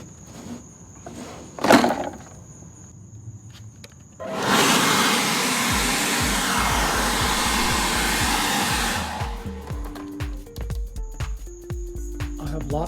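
A dust extractor vacuum switches on with a loud, steady broadband suction roar that runs for about five seconds, then drops away as lower rumbling and scattered clatter follow, set up without a cyclone separator.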